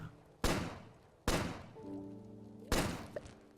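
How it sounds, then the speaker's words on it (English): Three sharp, loud weapon shots fired at a pudding enemy in the Starbound video game, evenly spaced about a second apart, each with a short decaying tail and a faint electronic tone in between. "3 shots from this to kill a pudding."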